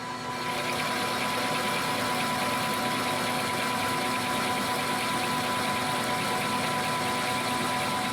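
Metal lathe cutting a metric thread for a tailstock taper attachment, a continuous steady mechanical hum of motor and gearing with a faint constant whine, close by, without talk.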